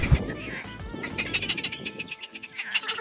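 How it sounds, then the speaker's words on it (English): Thousands of frogs call in a mating chorus near a hotel in Romania, with dense overlapping croaks and trills at moderate distance and some bird chirps mixed in. "we witnessed this mating ritual of thousands of frogs"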